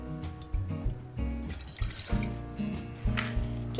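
Water from a glass poured into a cooking pot while making okra with egg, a splashing, gurgling stream with uneven surges and a few drips, close and fairly loud, no talk.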